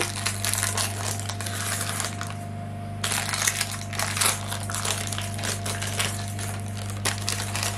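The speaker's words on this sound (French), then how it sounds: "Je vais lui enlever le papier." Baking paper crinkles and crackles as it is peeled away from a freshly baked pastry in a dish, a close run of dry rustling with a short pause partway through and no talking.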